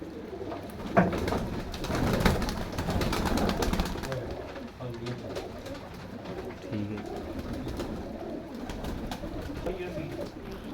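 Teddy pigeons coo in soft, repeated throaty calls close by, mixed with a busy background of shuffling, flapping and other noise, with people talking over them.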